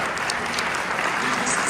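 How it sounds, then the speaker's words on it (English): Audience at a live real estate training event applauding, a steady dense wash of clapping filling the room throughout. "Give these guys a big round of applause."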